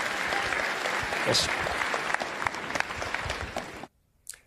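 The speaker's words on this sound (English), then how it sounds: "the crowd of Republicans at that Republican presidential campaign event applauded for John McCain's defense of Barack Obama as a decent person" A crowd at a Republican presidential campaign event applauds loudly and continuously, a dense roar of clapping with scattered cheers that cuts off abruptly near the end, followed by a brief spoken word.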